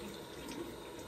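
Tap water running into a bathroom sink during face rinsing, a soft, steady splashing hiss, quiet and close.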